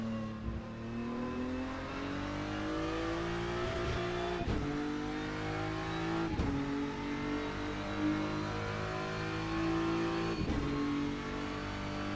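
GT race car engine in a racing game at Paul Ricard on a timed lap, a steady near droning whine rising in pitch through the gears with brief dips at each shift, sustained throughout without talking.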